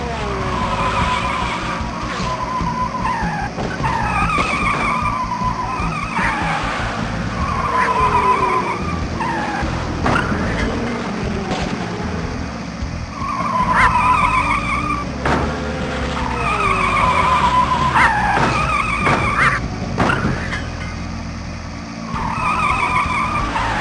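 Cartoon race cars in the Putt Putt Enters the Race video game skid and squeal repeatedly over steady engine hum, with tire screeches rising and falling in several loud bursts throughout.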